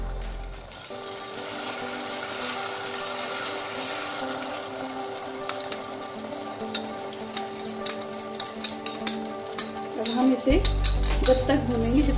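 Cashew, poppy seed and coconut paste roasting in ghee, stirred in the pan with a steady low sizzle and occasional spoon scrapes and clinks, growing busier and louder toward the end.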